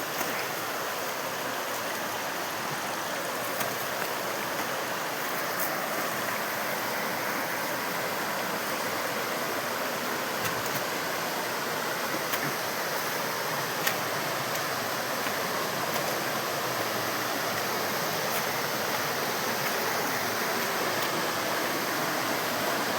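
A jungle stream in Meghalaya flows in a steady, continuous rush of water, close and fairly loud, with no pauses and no voices.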